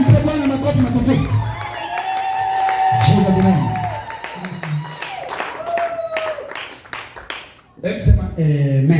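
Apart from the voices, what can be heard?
congregation applauding in church service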